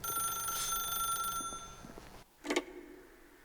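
A telephone rings in The Stanley Parable video game, a bright bell-like trill over a steady electronic drone, followed after a short gap by a second louder ring.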